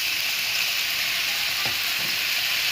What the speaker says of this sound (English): we use the remaining oil to cook the pineapple